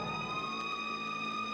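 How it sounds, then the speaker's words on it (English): An ambulance siren blaring loud and close, a sustained steady wail holding a constant pitch throughout. "They take him to the hospital in the ambulance."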